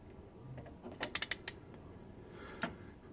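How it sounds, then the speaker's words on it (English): Ratchet joint on a Thrust action figure arm clicks in a quick run of four or five sharp close ticks, followed later by one single click, otherwise quiet. "It's not pulling those ratchet teeth apart at all."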